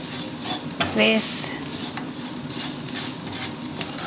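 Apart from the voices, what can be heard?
frying masala spices with garlic, ginger paste and onion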